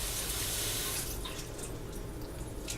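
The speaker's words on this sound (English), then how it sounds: "Rinsed my onion" Tap water runs steadily over an onion being rinsed under the faucet, a constant close hiss and splatter with a few brief drips and changes in the flow.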